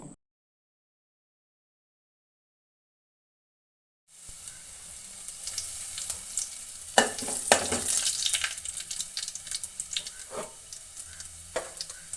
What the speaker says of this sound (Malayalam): ചെറിയുള്ളി ഇട്ട് മൂപ്പിച്ച് കറിവേപ്പില ഇട്ട് നമ്മൾ ഈ കറിയിലേക്ക് വറുത്ത് പാരുകയാണ്